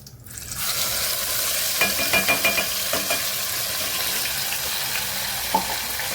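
Onion, tomato, cashew, garlic and ginger paste sautés in oil with a bay leaf, a loud sizzle rising at the start and then holding steady, broken by several stirring scrapes and no talk.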